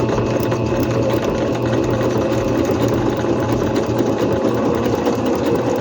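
A Singer C5605 electronic sewing machine stitches fabric in a steady, continuous mechanical whir with a fast needle rhythm. The sound is close and even, with no voices.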